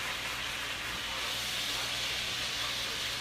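Corned beef sears in a hot pan, giving a continuous, broad hiss of sizzling fat that stays steady and fairly loud throughout, close by, with no voices.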